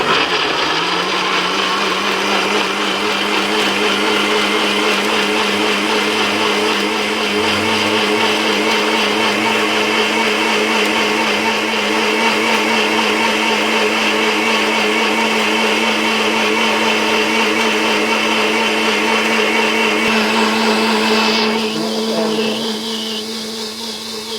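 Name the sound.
blender running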